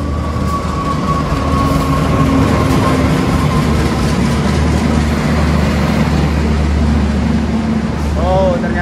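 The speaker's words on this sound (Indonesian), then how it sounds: "yang akan datang ini adalah kereta api Mataram tujuan stasiun Gambir ya" Loud, continuous rumble and roar of the Mataram passenger train, bound for Gambir, pulling into a station in Indonesia, with a brief squeal near the end.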